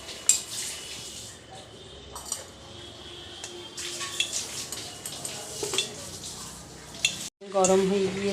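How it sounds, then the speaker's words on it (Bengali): Panch phoron spices dropped into hot oil in a kadai sizzle and crackle near at hand, mixed with clinks of a spoon against the pan, fairly quiet, with a louder sizzle burst at the end. "এবারে 5 ফোড়ন দিলাম"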